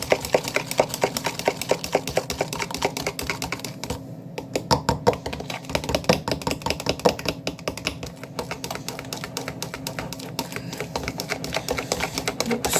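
Brownie batter stirred in a mixing bowl, a steady stream of quick clicking and tapping strokes of utensil against the bowl, close and fairly loud throughout, with no talking.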